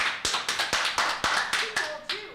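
Roughly ten sharp, evenly spaced claps at a town council meeting, a single pair of hands ringing out close and distinct in a quiet hall with a faint voice underneath near the end.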